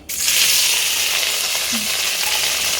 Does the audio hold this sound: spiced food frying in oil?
yes